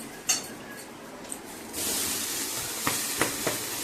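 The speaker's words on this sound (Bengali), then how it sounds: "এই যে বোন শাক ভাজা করছে" Mixed leafy greens (shak) fry in a pan with a steady loud hiss and sizzle that swells partway through, broken by a few sharp clinks of a utensil against the pan.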